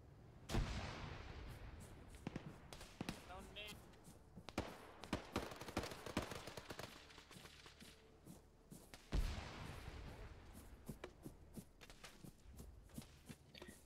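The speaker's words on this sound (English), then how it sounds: "Grenade out, get out of there!" Combat in the video game Arma 3: a grenade blast and scattered gunfire, with sharp loud bangs near the start and midway, followed by irregular shots, thuds and shuffling footsteps at varying distances.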